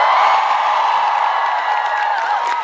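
A big festival crowd at the 2010 MBC FM4U summer music festival roars and shouts together, a dense, loud, sustained wall of cheering and whoops with scattered higher yells poking through.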